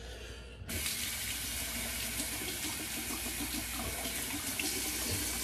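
Hot water runs steadily from a bathroom tap after a shave, switching on abruptly and then pouring in a constant, close, full-bodied rush with no voices.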